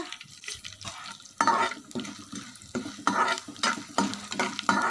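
Crackling, spluttering sizzle of spices frying in hot oil, close by, with bursts of stirring and scraping in a pan; no talking.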